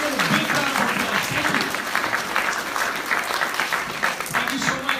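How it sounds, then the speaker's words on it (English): Audience applause at a university convocation, a dense, steady clapping that holds for about five seconds with no pause, with a voice faintly heard in the mix. "Take a big round of applause."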